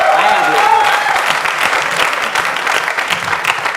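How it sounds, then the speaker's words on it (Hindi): Audience applause on a comedy show set, steady dense clapping filling the whole stretch with a bright whistle-like tone near the start and some voices mixed in. "तालियां"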